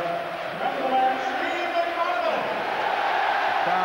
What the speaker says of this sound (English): Crowd now acknowledging Steve McManaman as the man of the match